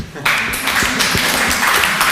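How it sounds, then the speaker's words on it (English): Applause breaks out in a university talk audience, a dense, steady wash of many hands clapping that starts abruptly and holds strong throughout. "give due appreciation to Peter, so in the form of applause"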